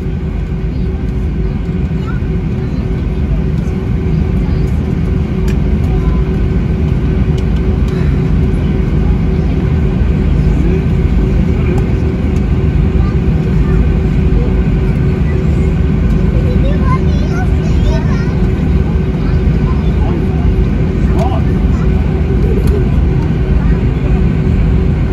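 Cabin of a British Airways A320 during takeoff, filled with a loud, steady roar of engine and rushing air that holds constant throughout, with a voice talking faintly underneath.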